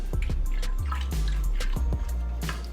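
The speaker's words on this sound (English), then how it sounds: "And you gotta stir it up." Liquid hair dye mixture stirred in a container, with wet sloshing and dripping sounds and low knocking thumps in an uneven rhythm, close and fairly loud.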